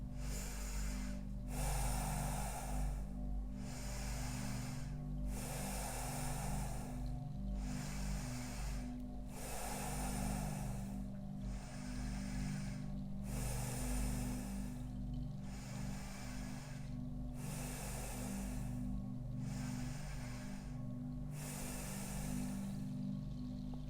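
Steady rhythmic breathing during a yoga core exercise, each breath cycle paced every couple of seconds in time with the movement, close and continuous over a constant low hum, with no talking.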